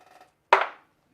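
A heavy, metal-like cork on a liquor bottle being set down, a single sharp close knock with a brief ringing decay, preceded by faint tonal clinking and then silence.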